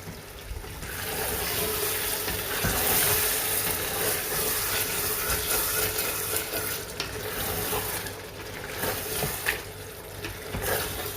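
Whisked yogurt, about 100 grams, goes into beef pulao frying in a pot, giving a steady close sizzle with scraping stir strokes and occasional clinks.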